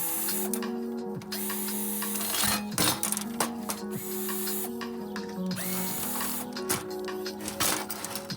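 Mechanical clicking, ratcheting and metallic tool noises close by while the gas control valve is taken out of a clothes dryer, with repeated short knocks and rattles over a steady hum.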